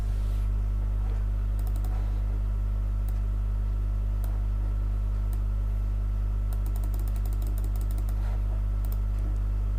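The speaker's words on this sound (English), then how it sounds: "But let me type it." Typing on a computer keyboard while checking currency trading pairs, scattered bursts of quick faint key clicks over a steady low electrical hum.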